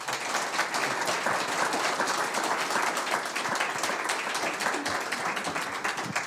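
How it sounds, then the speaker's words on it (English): A conference audience at a cryptocurrency security talk breaks into loud, dense applause for the speaker, steady and sustained throughout with no pause. "That was the biggest round of applause of the day."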